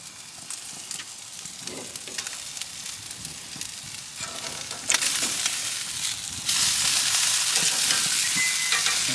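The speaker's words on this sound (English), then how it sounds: "the steak has been cooking for a few minutes on one side" A steak sizzles steadily in a hot pan partway through searing on one side, a continuous crackling fry that swells louder toward the end, with no voices.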